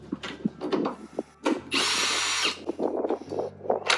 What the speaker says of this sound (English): You'll need an 8mm socket for these two bolts here.